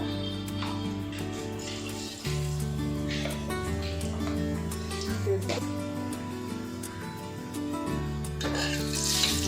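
Cumin seeds roasting in a pan crackle and sizzle softly and steadily beneath a bed of background music.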